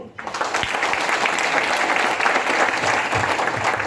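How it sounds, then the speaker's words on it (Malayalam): A large audience bursts into steady, loud applause at a talk or seminar, sustained dense clapping filling the whole stretch without voices rising above it. "ഒരു നല്ല കയ്യടി എനിക്കോ"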